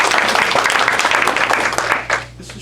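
Audience applause for a bowing performer at a storytime show, a dense wash of clapping that runs steadily and then thins out near the end.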